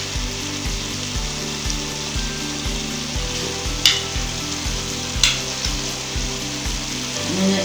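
Chicken karahi sizzling in desi ghee, a steady loud fry with rhythmic stirring scrapes every half second or so and a couple of sharper clanks of the utensil against the pan.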